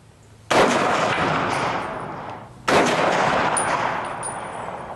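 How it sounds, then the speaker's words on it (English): A WW2-era Navy rifle fired outdoors: two loud, sharp reports about two seconds apart, each followed by a long, broad rolling echo that slowly fades. "Everybody had this rifle. Would you like to fire one?"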